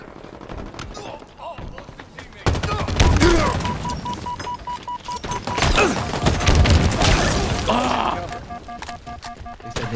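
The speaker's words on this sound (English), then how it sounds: "I was shooting his feet, his legs." Rapid automatic gunfire from a Halo Infinite match rattles in loud, dense bursts with game effects and explosions mixed in, continuing almost throughout.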